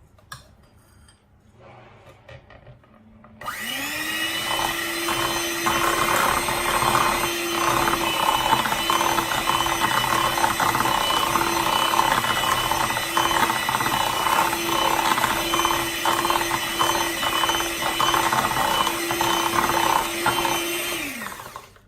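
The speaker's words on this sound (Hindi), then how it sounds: "और एक दफ़ा फिर इसको बीट कर लेंगे" An electric mixer beating almond cake batter switches on after a quiet moment and then whirs loudly at a steady pitch. The blades rattle and scrape against the bowl for nearly twenty seconds before it stops.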